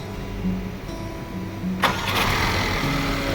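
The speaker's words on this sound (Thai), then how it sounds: "เอ๊ะสตาเครื่องแล้วตอนนี้" A Mercedes-Benz CLA W117 engine, just reassembled after a coolant leak repair, cranks and catches near the mic. A steady hum comes first, then a sharp burst as it fires and settles into a rough, loud idle.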